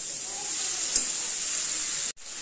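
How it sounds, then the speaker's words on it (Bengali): Cut vegetables frying lightly in a spiced masala, a steady, even sizzle holding at a moderate level with a brief dip near the end and no voices. "সবজিটাকে মশলা দিয়ে ভাজা করবো হালকা।"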